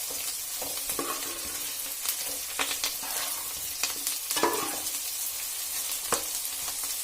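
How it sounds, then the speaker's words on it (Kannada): Manji fish fries in a pan in a steady, close sizzle, broken by scattered sharp crackles and pops and occasional soft scraping, with no voices. "ಇನ್ನು ಸ್ವಲ್ಪ ಫ್ರೈ ಆಗಲಿ"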